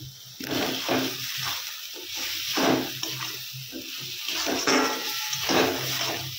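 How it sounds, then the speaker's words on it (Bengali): Water is poured into a frying spice mixture with fried potatoes in a home kitchen, producing a hissing sizzle that swells in repeated waves, fairly close. "আমি জল দিয়ে দিব।"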